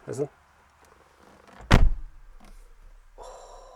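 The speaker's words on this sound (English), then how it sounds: "there's just a sense of quality when you close the door" A single solid thunk of a 2020 Audi A6 S-Line 40 TDI door shutting, loud and close, followed by a low resonant hum and faint rattling afterward.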